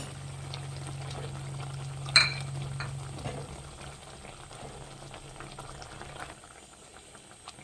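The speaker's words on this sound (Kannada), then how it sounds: "ಹುಳಿ ಹಿಂಗೆ ಮಳ್ತಾ ಇದೆ" Huli (sambar) for bisi bele bath bubbling in a pot, a steady soft simmer with one brief louder clink or splash early on, then a quieter continuous bubbling.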